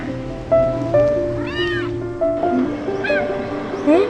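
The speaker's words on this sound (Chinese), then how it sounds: "小猫咪，你怎么在这里啊？" A kitten meows close by several times, high and plaintive, in a run of short calls over faint background noise.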